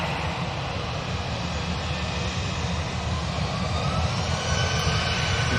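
An EasyJet airliner's jet engines roar steadily at Manchester Airport, a loud, dense and unbroken rush with a deep rumble beneath, heard alone without talk.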